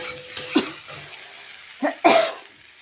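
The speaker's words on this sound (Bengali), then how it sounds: "আর জিরে ফোড়ন দিয়েছি" Cumin seeds and dried chili tempering in hot oil, short bursts of sizzling and spitting crackle, a faint one early and a louder, longer flare near the end, with quiet kitchen noise between.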